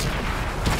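A single heavy tank cannon fires in World of Tanks, a short loud boom that stands alone, close and forceful.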